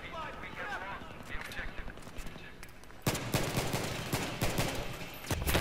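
Pistol gunfire from Battlefield 3 on the Seine Crossing map, a 1911 handgun in a pistols-only match, with a steady stream of sharp, rapid shots that loudens and thickens about halfway through, alongside other battlefield noise.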